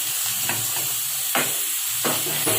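Ground masala paste hits frying onions in a pan, a steady loud sizzle and hiss with a few stirring scrapes breaking through.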